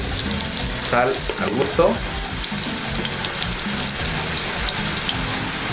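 Onion frying with panca pepper, paprika, cumin and black pepper for Peruvian chicken adobo sizzles loudly and continuously, with a few stirring scrapes near the start and brief speech over it.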